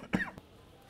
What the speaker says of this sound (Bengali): তোমার কাশি হলো কখন?